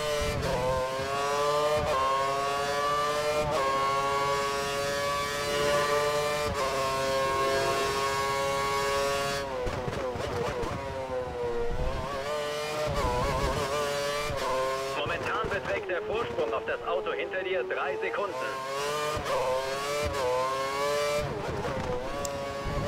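A Formula One car screams through its gears on the Marina Bay street circuit in Singapore in F1 2013, a high, whining engine note rising and dropping with each shift, loud and constant, with someone talking over it.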